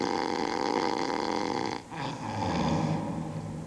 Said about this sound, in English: I can't think with that snoring.